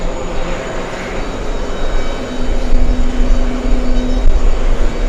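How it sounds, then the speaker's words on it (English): Saudia jet airliner rolling down runway 22 right at JFK Airport as it slows, a steady, loud broadband engine roar with a sustained low hum that swells slightly in the second half. "Saudia 21 using the entire length of runway 22 right to slow down."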